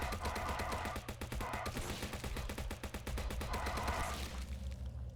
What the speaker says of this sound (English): Let's try shooting them in the head this time though